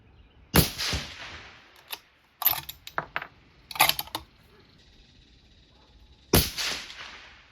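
Three sharp rifle shots from a precision rifle firing Berger 90gr VLD bullets in a load-length test, spaced irregularly with metallic clicks of the action between them, loud and close, with no talk.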